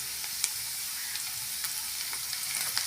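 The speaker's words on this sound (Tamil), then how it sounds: "ப்ரௌன் கலர் ஆகிற வரைக்கும் வதக்கி விட்டுக்கோங்க." Onions with curry leaves fry until brown in a pan, a continuous bright sizzle with light periodic stirring taps, close and alone.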